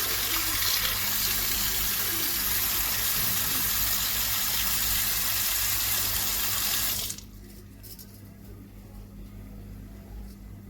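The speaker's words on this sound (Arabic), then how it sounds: "بعد كده طبعا بغسله مطرح الملح الليمون ماشي." Cleaned, gutted fish rinsed under a steady, loud stream of running tap water for about seven seconds, then the flow cuts off, leaving a quieter sink background.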